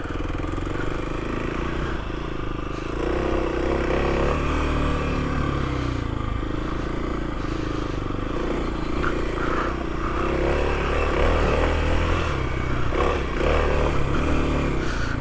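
A Kawasaki KLX300 dual-sport motorcycle rides through desert terrain around Joshua Tree, its engine droning steadily under heavy wind rumble, with slight rises in revs and occasional rattles; fairly loud and continuous, no talking.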